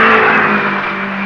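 A Renault rally car roars by at speed in the 1974 Lebanon–Syria rally. The engine note is loud and close, a sustained droning whine that eases slightly as it goes. Old, band-limited recording, no voices heard.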